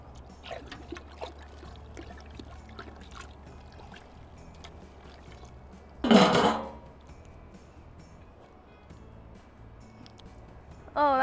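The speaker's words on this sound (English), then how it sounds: "I'm gonna stir this up and see if it changes anything." A homebrew IPA mash is stirred, giving faint scraping and sloshing with a short, loud clattering splash partway through.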